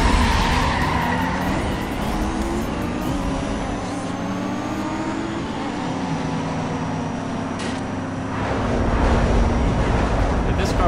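Toyota Supra fleeing police in Need for Speed Most Wanted, a constant loud engine roar with screeching tire skids and shifting revs, traffic whooshes and game effects layered throughout, with talk over the driving.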